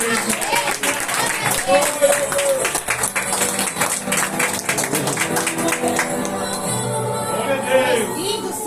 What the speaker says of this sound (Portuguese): palmas ao meu Senhor, igreja